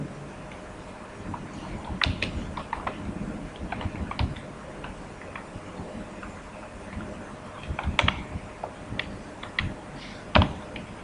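Code is typed on a computer keyboard: irregular runs of close, crisp key clicks in short bursts with brief pauses, no talking.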